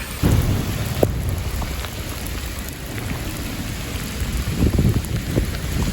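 Heavy rain pours steadily outdoors during a parkrun, loud and close, with low rumbles of thunder rolling underneath.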